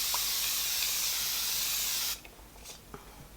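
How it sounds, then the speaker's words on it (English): A grapefruit refreshing face spray hisses in one steady aerosol burst of about two seconds, close and loud, then cuts off, leaving faint handling noises. "I'm just going to take this little grapefruit refreshing spray."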